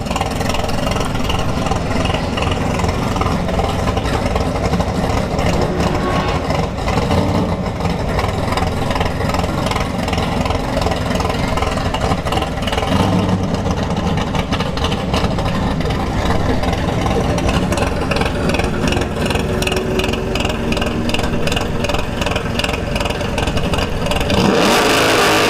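A rowdy third-generation Camaro drag car sits at a dragstrip test-and-tune session, its engine a loud, continuous close rumble that idles roughly and swells with revs throughout.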